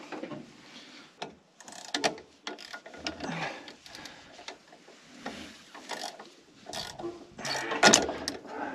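A John Deere STS combine's unloading mechanism running as corn comes out during a southern Iowa harvest, producing faint, irregular mechanical clanking and ratcheting knocks with scattered louder clicks, and no talking.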